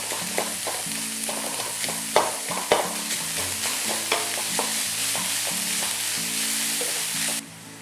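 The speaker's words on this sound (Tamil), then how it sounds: "அப்புறம் வெஜிடபிள்ஸ் வந்து உங்கள் விருப்பம் தான். நீங்கள் கேப்சிகம் கூட சேர்த்துக்கலாம். இது எல்லாமே நான் வந்து ஹை ஹீட்டில் தான் குக் பண்ண போகிறேன்." Onions, vegetables and optional capsicum fry on high heat in a pan for gobi fried rice, a steady close sizzle broken by repeated scraping and stirring knocks, with a faint musical background, ending abruptly.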